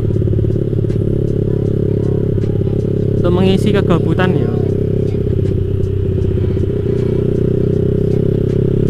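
A cold Maxi scooter engine idles steadily while warming up before a morning ride, a constant low drone running throughout beneath a person talking, with a brief clattering rattle partway through.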